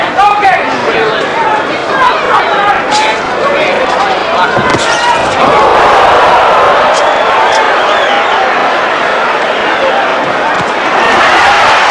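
A packed boxing arena of 15,300 around the tennis court area at Caesars Palace, with a loud, continuous crowd roar and murmur swelling throughout and a commentator talking over it.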